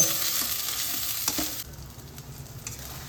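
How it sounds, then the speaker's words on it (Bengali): Spices with dried chilli powder and salt being stirred and sautéed in hot oil in a pan for a Bengali katla fish kalia, a steady close sizzle with scraping spoon strokes, quieting somewhat partway through. "সব মশলাগুলোকে আমি একসঙ্গে কষিয়ে দেব"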